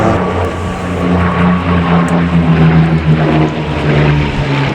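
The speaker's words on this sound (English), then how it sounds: "the Messerschmitt 109. The German equivalent of the Spitfire or the Hurricane" A Messerschmitt Bf 109 fighter flies at the Duxford Flying Legends air show, its piston engine giving a loud, continuous droning roar with a steady pitch that swells gently.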